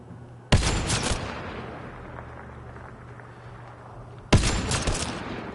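Two loud, isolated gunshots from the Mass Effect Andromeda video game land about four seconds apart, each a sharp crack trailing into a long echoing decay over a low ambient hum.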